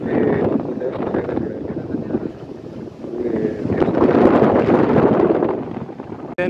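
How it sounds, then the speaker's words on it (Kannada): Heavy wind gusts roar across a windmill hilltop at Savalanga near Shimoga, buffeting the microphone in loud, uneven surges that build toward the end. "ಹೆವಿ ವಿಂಡ್ ಬ್ಲಾಸ್ಟ್ ಇದೆ"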